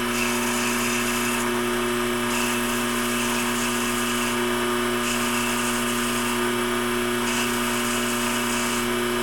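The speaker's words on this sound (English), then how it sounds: "And this is what I bought this little lathe for, just for doing simple things like this." A small lathe machines a simple part for a 1982 air-cooled VW Vanagon Westfalia restoration, giving a steady mechanical whine with a constant hum that runs throughout. The sound stays close and even, with no voices.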